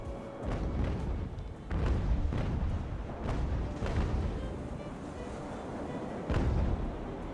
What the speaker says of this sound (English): Couple of big shots there to the Santiago El Maya, and she's now surrendered.